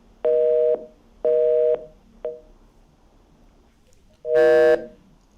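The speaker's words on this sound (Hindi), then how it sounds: "लगता है फोन कनेक्शन कट गया है" Telephone line tones after a dropped call: two long steady beeps, a short blip, then a louder harsher beep, evenly spaced and alone with no talk.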